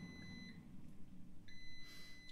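An air fryer timer gives two short, high electronic beeps about a second apart in an otherwise quiet room.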